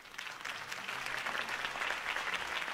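Crowd applause in a Batman video game cutscene following a Harvey Dent campaign speech, a dense, steady wash of clapping at a distance, filling the whole stretch without talk.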